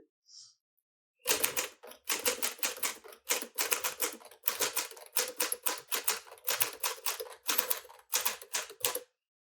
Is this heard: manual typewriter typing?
yes